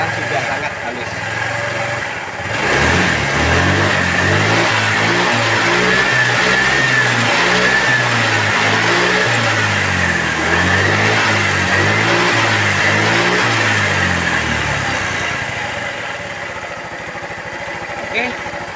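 A Honda Vario 110 engine runs steadily after being reassembled, a continuous close-up drone with a smooth, even idle that holds for the whole stretch.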